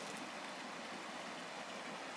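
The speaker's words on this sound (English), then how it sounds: "got a little waterfall kicking." Water spills over a small waterfall of stacked rocks in a creek, a faint, even rushing and splashing that stays constant and distant with no voices.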